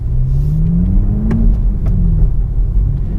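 A Toyota GR Supra 3.0 engine rumbles and revs up, pitch rising then easing off, loud and close, with no voices.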